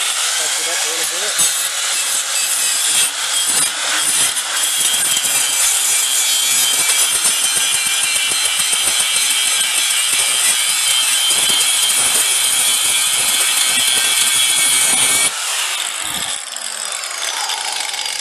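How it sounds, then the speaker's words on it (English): An angle grinder fitted with a Bauer cutoff wheel slices through metal, a loud, steady high-pitched whine and rasp that runs continuously for about fifteen seconds, then stops abruptly as the wheel spins down. "Now take that same grinder."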